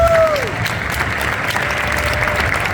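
A convention audience at SuperFest 2022 applauds Anthony Daniels with a dense, sustained wash of clapping and crowd noise, heard close and loud throughout, with a voice faintly audible at the start.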